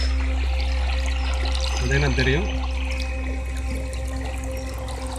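Water flows steadily from a pipe into irrigation water, a continuous close splashing pour that holds throughout while someone speaks over it.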